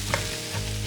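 Tomato sauce with garlic chunks bubbles at a rolling boil in a pot, giving a dense, steady sizzling hiss with a couple of small pops, close and continuous.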